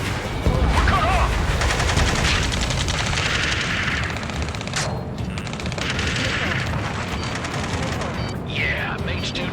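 Gunfire in Ace Combat 7 in a dense, continuous barrage of rapid shots and booms near and far, with whooshing passes overhead and shouted radio voices mixed into the chaos.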